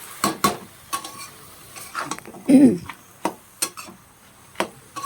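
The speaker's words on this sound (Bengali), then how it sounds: "এটাকে ভালোভাবে নাড়তে হবে, নেড়ে কিছুক্ষণের জন্য আমি ঢেকে দেবো।" Spinach and shrimp are stirred in a kadai pan, with a scattering of scraping clicks and knocks of a spoon against the metal and a brief louder sizzle in the middle.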